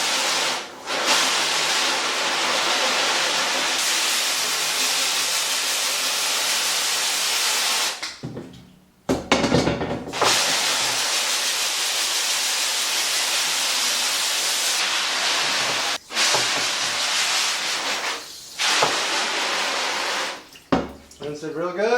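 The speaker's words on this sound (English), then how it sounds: "Rinse it real good." Water spraying hard to rinse out an exposed screen printing screen, a loud steady hiss broken by a few short pauses as the spray is moved.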